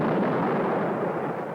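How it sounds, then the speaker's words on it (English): Spaceship missiles fired at a wall in a 1954 science fiction space serial, a loud, sustained roaring blast that fills the whole moment and slowly fades, no voices. "Fire missiles, concentrated direction. See if we can cut through that wall."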